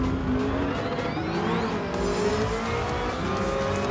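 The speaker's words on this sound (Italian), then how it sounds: "Comunque la Fitti Baldi si guida in maniera veramente eccellente, con le gomme da corsa super morbide" Fittipaldi race car on super-soft racing tyres in the video game Gran Turismo Sport, its engine droning loudly and steadily with rising and falling pitch as gears shift, tyres squealing through corners, no voices over it.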